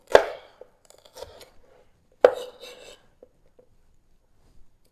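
A knife slices food on a cutting board with a rocking motion, giving two sharp chopping knocks about two seconds apart, each trailed by soft scraping and rubbing of the blade on wood, with quiet pauses between.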